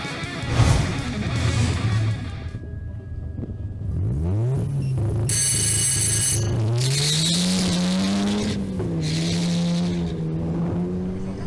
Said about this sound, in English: Following him is Alvaro Stefanel in his BMW M340i xDrive, making another pass.